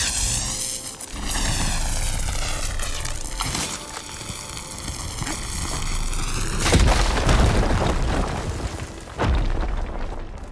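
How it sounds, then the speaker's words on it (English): A fire gleam blown up in the game Horizon Forbidden West: a deep booming blast stands out amid layered game score and rumbling ambience, with a loud burst near the middle and another surge toward the end. "Should be able to blow up that fire gleam."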